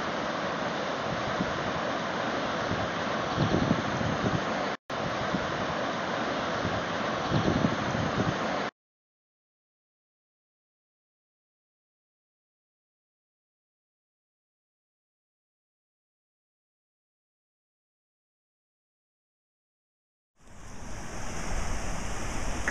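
Floodwater rushes at an RV park as a loud, steady roar of noise, cut off by a long stretch of silence before the roar returns.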